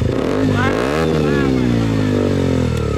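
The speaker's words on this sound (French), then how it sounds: "À ma droite nous avons une KTM Duke. Monsieur, allumez le moteur s'il vous plaît. Ok, fais-moi gronder un peu ça." A KTM Duke motorcycle engine idles and revs loudly up close, with a rising-then-settling throttle blip, while a voice talks over it.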